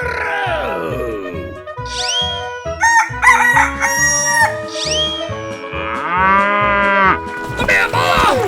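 Animated animal calls ring out loud and close, with a cow mooing among rooster crows and other cartoonish animal cries, in a quick, layered sequence of tonal calls.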